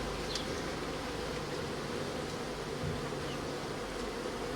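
Honeybees hum in a dense, continuous buzz around an open nuc hive, close and steady throughout, with no voices.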